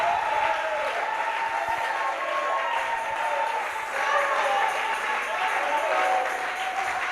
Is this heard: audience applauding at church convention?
yes